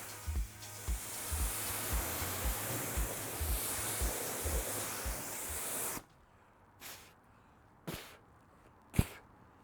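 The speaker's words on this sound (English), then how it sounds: "For here, what we're gonna do is just start off with a standard rinse, right?" Water spraying during a standard rinse of a fire truck, a loud continuous rushing hiss for about six seconds that cuts off abruptly, followed by a few short separate bursts of spray.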